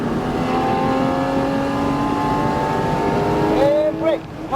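Porsche 718 Cayman GT4 RS accelerating hard around Homestead-Miami Speedway, its engine rising in pitch through the gears as a loud, close, continuous roar from inside the car, easing off at the end, with an instructor talking.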